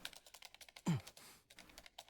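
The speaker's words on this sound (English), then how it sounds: "Someone's clicking away." Computer keyboard typing in the Ultra Despair Girls video game: a rapid, fairly faint run of clicking keystrokes, broken once by a louder thump partway through.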